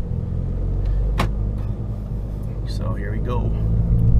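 Fiat 500 Abarth turbocharged engine heard from inside the cabin with the windows up and the AC on low, a steady close rumble under a voice, with brief clicks and a faint whistle.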